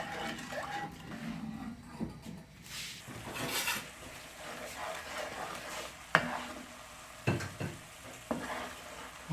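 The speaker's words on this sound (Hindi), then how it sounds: "और इसको 5 मिनट तक जो है चमचा चलाते रहें ताकि अच्छी तरह से जो है शीरा तैयार हो जाए" A spoon stirs bread halwa syrup as it cooks in a pan, giving soft scraping and occasional sharp clinks against the metal over a low bubbling simmer, fairly quiet and close.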